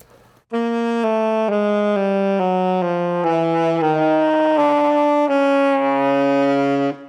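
A saxophone, a Jupiter JAS1150, plays a slow descending run of low notes, each one clear and sustained with a somewhat pinched, buzzy tone, alone and fairly close.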